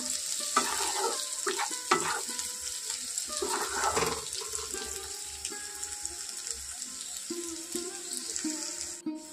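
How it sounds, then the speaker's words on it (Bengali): Onions fry in a pan for an egg dish with a continuous close sizzle, broken by a few scraping stirs early on and then settling into a steady hiss. "পেঁয়াজটা একটু লাল লাল করে ভাজা হয়ে যাওয়ার পর এখানে অন্যান্য মশলাগুলো অ্যাড করব"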